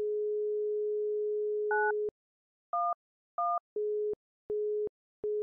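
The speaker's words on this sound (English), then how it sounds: "Nine-one-one is busy." A telephone busy signal from the point-and-click game Mystery of the Druids, a steady tone that breaks into a repeating on-off pattern of short beeps, clear and alone with no talking.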